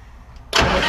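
A Bandit 18-inch whole tree chipper's 140 horsepower turbocharged Caterpillar engine starts up. After a quiet half-second, the engine catches abruptly with a loud, rough roar and settles into a steady, close, heavy running rumble.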